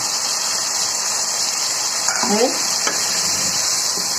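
Bay leaves with whole and sliced green chillies, added to a pan of dal, give a steady, loud hissing sizzle that carries on throughout, with a brief clink of a utensil in the middle.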